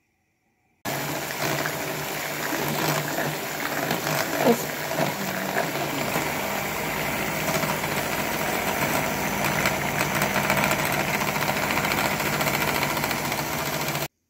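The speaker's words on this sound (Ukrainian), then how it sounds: "до яєць додаємо цукор і сіль, і збиваємо все до піне, до однорідності" An electric mixer beats eggs with sugar and salt for a light cheese cake, a loud, steady motor whir with a rattling edge that runs unbroken for most of the clip after starting abruptly.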